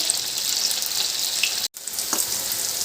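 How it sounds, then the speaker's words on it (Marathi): Cauliflower pieces for crispy restaurant-style gobi manchurian deep-fry in oil until golden brown, a close, steady hiss of bubbling oil broken by one brief silent gap, with no speech. "हे व्यवस्थित सगळ्या साईडनी गोल्डन ब्राऊन असं तळून घ्यायचं आपल्याला"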